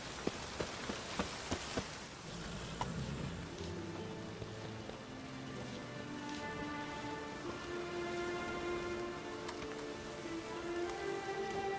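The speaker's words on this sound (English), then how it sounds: "I like rain. Keeps the rogues indoors." Steady rain falling in The Witcher 3 video game, a continuous even hiss with scattered droplet taps and soft music underneath, no talk.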